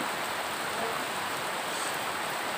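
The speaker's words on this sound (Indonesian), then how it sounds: "hujan turun ini" Steady rain falls outdoors in a durian-growing village, a dense even hiss of drops with no break and no talk over it.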